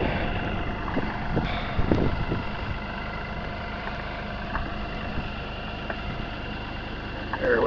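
Outdoor wind buffets a microphone, a steady low rumbling roar with occasional stronger gusts and faint knocks and scrapes of handling underneath, no talking.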